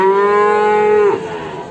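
A single loud, close cow moo at the Ngadirejo livestock market, a long sustained low bellow that drops off abruptly, followed by faint background noise.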